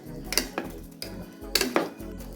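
A spoon stirs a pot of white vegetable kurma, clinking and scraping against the metal in a few irregular knocks, close by and moderately loud.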